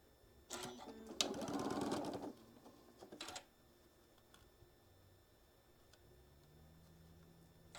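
A sewing machine stitches quilting fabric pieces in a short quiet burst of rapid needle clatter, then a few brief stitches before it falls quiet.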